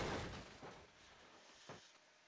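A car smashing up in the BeamNG driving game after a fast run into a corner, a loud crunching impact burst at the start that fades out, then a second sharp hit a moment later.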